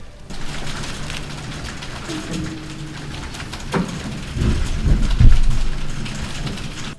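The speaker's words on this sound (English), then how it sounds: "there was just a massive storm that lasted approximately 35 seconds, and it knocked out the internet" A sudden, brief thunderstorm with rain gives a steady hiss of rainfall, and a deep rumble of thunder swells near the end. Faint electronic tones sit underneath.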